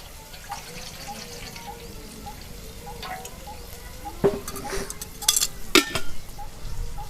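Buttermilk poured and stirred into a pot for drumstick (moringa pod) curry, with a steady low bubbling bed, soft drips, and a few sharp spoon clinks against the pot near the end.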